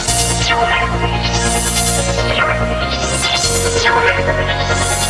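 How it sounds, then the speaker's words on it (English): Loud, heavily distorted beat made in FL Studio, with a clipping 808 bass booming under sweeping high synth swirls, dense and saturated throughout. "You pretty much just want to have a distorted 808 that's just clipping the fuck out of the beat."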